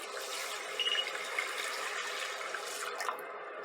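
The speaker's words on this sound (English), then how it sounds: "Add about 2 cups water." Water runs steadily into a pot holding red rice, roughly two cups poured in a continuous, close splashing stream with no talking.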